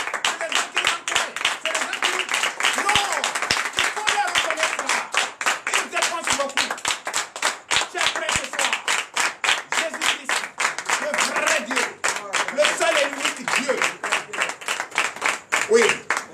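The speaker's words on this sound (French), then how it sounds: "On doit les applaudir très fort." A church congregation at a night prayer service claps in a quick, steady rhythm, sharp hand claps repeating evenly for a long stretch, with voices talking and calling out over the beat.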